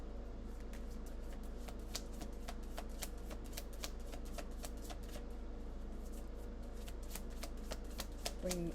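Playing cards being shuffled and handled close by, with a rapid series of crisp riffling clicks and flicks throughout, under a low steady hum and occasional faint talk.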